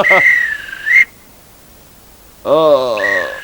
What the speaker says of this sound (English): It's a referee. The whistle.